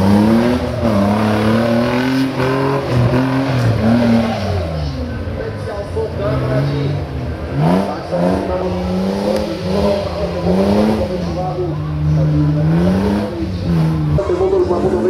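A Suzuki Samurai 4x4 fitted with a 2.5-litre Suzuki Vitara six-cylinder engine revs loudly at an off-road competition in Hruštín, its pitch rising and falling in repeated throttle surges for the whole stretch.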